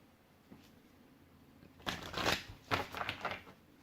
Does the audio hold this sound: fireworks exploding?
no